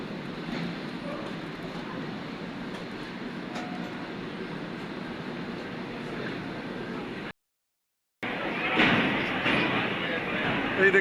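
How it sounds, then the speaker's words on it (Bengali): The Jammu Tawi express stands at Dhanbad railway station, giving a steady low platform and train rumble with a brief dropout and a thump as it resumes. "এই আমাদের জম্মু তাওয়াই ট্রেন।"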